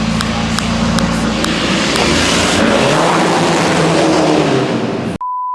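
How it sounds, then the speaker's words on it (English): A Seat Ibiza engine revving hard nearby, a loud continuous rasping roar with exhaust tone rising and falling, ending abruptly as the recording cuts to a steady tone. "It's a Seat Ibiza, I think. I'll give you a rev competition."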